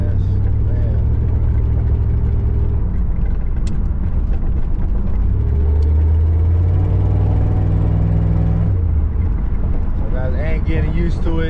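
Engine of a 1994 Chevy Camaro Z28 while driving, a deep, loud rumble that rises and settles as the throttle changes, with people talking over it inside the car.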